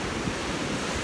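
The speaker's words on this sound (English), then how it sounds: "I got the water coming rushing up right here on my feet." Ocean waves rush up the shore over the feet as rain approaches, a loud, continuous broadband surf roar mixed with buffeting wind on the microphone and no speech.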